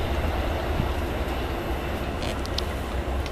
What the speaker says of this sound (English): It's a northbound train. So it always goes north.